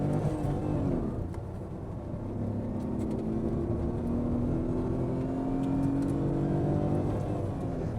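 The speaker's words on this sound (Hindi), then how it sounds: "फर्स्ट गियर पूरा एक्सेलरेशन, कितने तगड़े व्हील स्पिन करें इसने।" A 2026 Tata Tiago accelerates hard in first gear with wheel spin, its engine note climbing steadily and loudly over a constant road roar.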